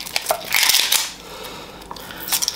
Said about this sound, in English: I'm gonna cut up my onion.